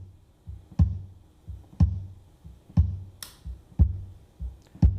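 Kick drum recorded through an inside Beta 52 microphone with its phase flipped, thudding roughly once per second in a steady pattern with a thin, reduced low end, plus a brief hiss of cymbal.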